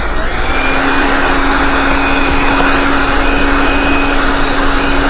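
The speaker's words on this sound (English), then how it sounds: "Just give it a little vacuum around the edge, get loose debris away" A loud, steady vacuum cleaner roars continuously while cleaning debris around the edge of a car windscreen, a constant airy rush with a thin whining tone running through it.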